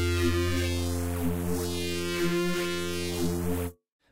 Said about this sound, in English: What it is, it's a pitch shifter that is going from side to side of this frequency